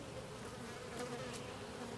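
Honey bees swarm and buzz around an open hive during an inspection, a dense, steady drone of many wings filling the whole stretch without a break and without talk.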